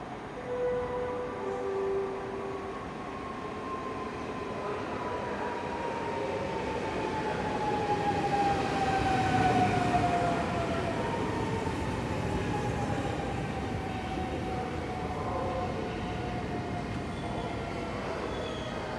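An Intercity Morcinek passenger train from Lublin and Kielce rolls into Gliwice station, a steady rumble of wheels on rails building and easing, with drawn-out high squeals and a faint whistle sliding across the approach.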